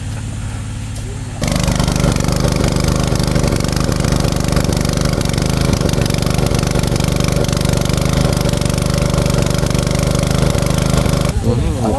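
A small engine runs loud and steady for most of the stretch, starting abruptly after a brief quieter lead-in and cutting off near the end, with a few voices faintly underneath.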